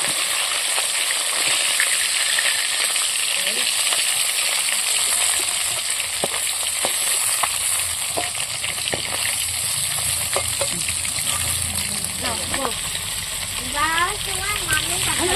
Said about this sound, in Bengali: মাছের মাথাগুলো বাকি ছিল এই কটাও আমি ভেজে নিলাম